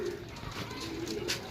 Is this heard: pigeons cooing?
yes